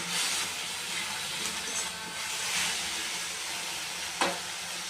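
Fenugreek greens frying in a pan with salt and turmeric, giving a steady close sizzle with soft stirring scrapes and one sharp clink near the end.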